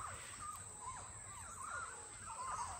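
A flock of roughly 50 to 70 birds calling at once over a wildlife pond, a chorus of overlapping harsh calls, faint and somewhat distant, continuous throughout.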